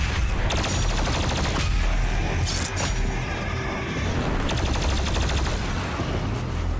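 In DOOM Eternal, a Revenant enemy fires amid dense, continuous combat gunfire, rapid volleys and bursts crowding a loud game soundscape throughout, with no talk.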